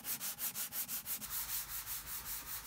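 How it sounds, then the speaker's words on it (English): Hand sanding a wooden desk, rhythmic back-and-forth scraping strokes, about five per second, close and steady with no voices. "Alright, so I am sanding the desk."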